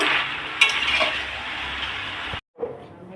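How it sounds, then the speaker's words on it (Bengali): Fried potatoes and chicken sizzling in a pan as they are stirred, loud continuous frying hiss with a sharp clink, a brief dropout near the end, then quieter sizzling resumes. "তা চিকেন কষার জন্য আমি আলুটা আগে ভেজে নিয়েছিলাম এবার দিয়ে দেবো ভালো করে একটু কষে নেব"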